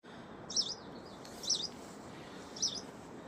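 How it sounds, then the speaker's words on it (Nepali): Birds chirp in a quiet Himalayan forest in Khumbu, Nepal: three short, bright chirps about a second apart, clear against a soft, steady background hush. "शान्त जङ्गलमा चिरचिराट आउने चराको सुन्दर आवाज"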